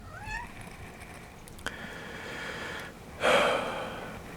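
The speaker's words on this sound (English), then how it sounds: "Leah, my cat wants to go outside" A house cat meows to be let outside, with a couple of short rising calls near the start, then a brief sharp sound and a louder breathy burst near the end, all close and fairly quiet.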